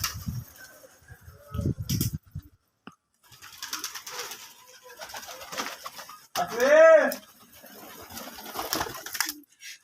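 Pigeons coo outdoors in a cold, windy winter village where maize is scattered on the ground, with one clear rolling coo standing out midway among quieter calls, faint scattered noises and brief low rumbles.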